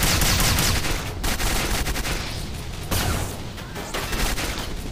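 Dense, loud, continuous gunfire rattles through a fast-paced Quake-like first-person shooter, with rapid shots and explosive cracks filling the whole stretch without pause.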